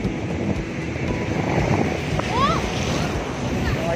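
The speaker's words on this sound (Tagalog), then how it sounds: "Lakas ang alon, tatalsikan tayo ng ano," Strong surf at San Narciso beach in Zambales roars and crashes nearby with buffeting wind noise, while someone talks over the waves.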